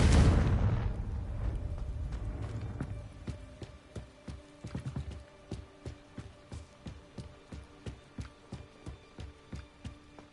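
A Confringo blasting spell explodes in a retro video game, opening with a loud broadband boom that decays over about three seconds, followed by a steady run of short rhythmic thumps like footsteps or hoofbeats.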